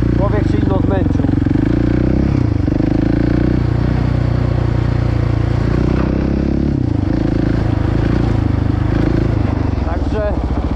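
A small enduro quad ATV engine runs loud and close throughout a test ride after a rebuild, a steady buzzing drone with shifting revs, and a voice speaks over it.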